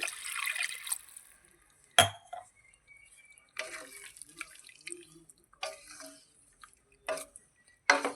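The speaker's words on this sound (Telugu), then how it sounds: "ఇప్పుడు మనం వాటర్ వేసుకోవాలండి ఇందులో" Water from a glass splashes and drips into a metal pot of prawn curry in a few short bursts, with quiet clinks and pauses between them.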